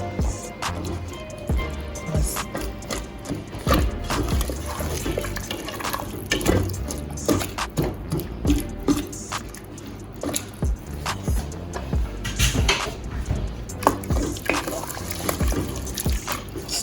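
Fish being mashed by hand in liquid, a continuous wet squishing and sloshing with drips and splashes, close and moderately loud throughout.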